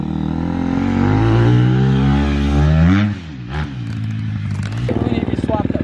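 A KTM dirt bike engine revs hard nearby, rising and falling pitch sweeps with a rough, buzzy tone, dipping briefly midway before climbing again in sputtering bursts; voices may be mixed in.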